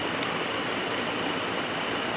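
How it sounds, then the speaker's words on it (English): Big shop fan running steadily in a garage, a constant broadband whoosh filling the whole clip at a fairly loud, unchanging level with no talk. "Sorry for the noise in the background. I got the big shop fan going to keep me cool"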